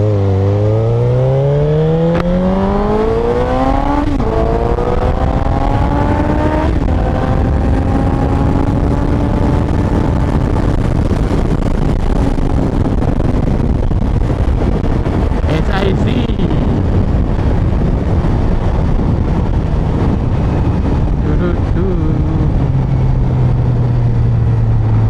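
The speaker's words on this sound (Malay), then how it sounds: "Nak dengar bunyi deruman 4 silinder ni." A Suzuki GSX-S750 four-cylinder motorcycle engine warming up and revving outdoors, its pitch rising and falling through several throttle blips, loud and close with wind noise on the microphone.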